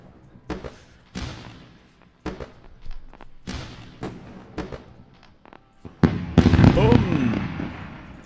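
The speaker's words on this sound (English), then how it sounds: "The fireworks are ringing the bell." Fireworks sound effect marking a filled futures trade: a string of sharp bangs and pops at irregular intervals, ending in a louder, denser crackling burst with whistling tones.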